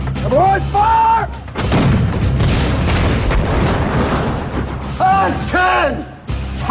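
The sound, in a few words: gunfire during military combat training assault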